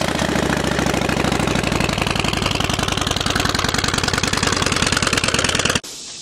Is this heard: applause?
no